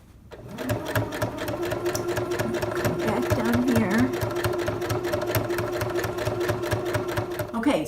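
A sewing machine runs continuously for several seconds, a fast steady mechanical chatter with a whirring motor underneath, stitching a skirt seam in recycled jeans with purple thread; the machine is close and loud throughout.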